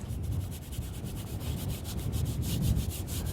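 Paintbrush scrubbing viridian paint onto a canvas during an outdoor plein air painting session, a steady close rough rubbing with repeated bristle strokes and no talking.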